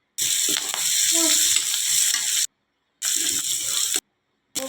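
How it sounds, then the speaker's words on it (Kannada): Curry leaves dropped into hot oil in a pan for a village-style vegetable stir-fry, giving loud, close hissing sizzles in two bursts separated by brief silences. "ಕರಿಬೇವು ಹಾಕೊಳತ್ತೀನಿ ನೋಡ್ರಿ."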